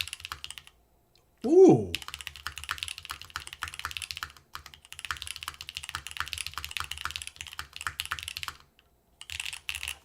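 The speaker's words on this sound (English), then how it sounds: "this has like a very definitive clack" Typing on an Osidian TKL V2 mechanical keyboard made of stone gives a steady run of sharp, close clacks, with a brief voiced exclamation near the start and short pauses between bursts.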